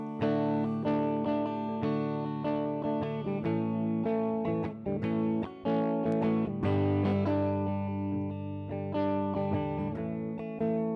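A guitar played through an Ableton emulation of a 1970s Acoustic G60T amp rings out in distorted, chorused chords and single notes, loud and sustained for the whole stretch with no talking.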